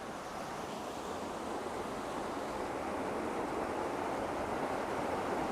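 Water from Venford Falls sprays and roars in a dense, steady hiss of spray and rushing water, constant and close with no pauses.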